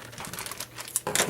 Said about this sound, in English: Just cut away the edges of the bag.